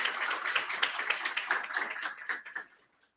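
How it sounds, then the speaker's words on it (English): A seminar audience gives a round of applause for a team of biodiversity researchers, close, brisk clapping from a modest crowd that thins and dies away at the end. "I welcome you all to give a round of applause for this incredible team"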